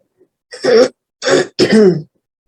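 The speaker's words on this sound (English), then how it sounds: "Cough it out." Three rough bursts of throat clearing and coughing, close and fairly loud, separated by short pauses.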